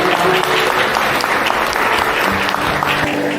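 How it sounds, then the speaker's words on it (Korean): Wedding guests applauding as the bride and groom bow to their parents, a loud continuous burst of clapping from a packed hall, steady and full for the whole stretch. "박수 부탁드립니다"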